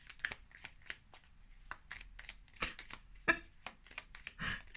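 Rapid, soft riffling and slapping of tarot cards being shuffled over and over, close and fairly quiet, in an uneven rhythm.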